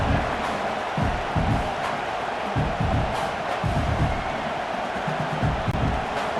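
A stadium crowd roars in the College Football 26 video game as a kicker lines up a fourth-down attempt inside the 15-yard line: a loud, continuous wash of cheering and shouting with no break.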